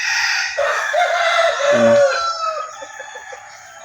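A mestizo junglefowl (labuyo) rooster crows once, loud and close, its harmonic call rising and then trailing off over roughly three seconds with no talk.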